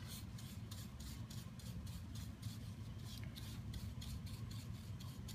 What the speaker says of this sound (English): apply your wax in the direction of the grain